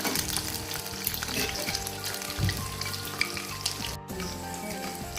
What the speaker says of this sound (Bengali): তো উল্টে দেবো, এক সাইড হয়ে গেছে।